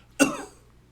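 A single short, sharp cough in a video game, close and fairly loud, quickly fading into quiet.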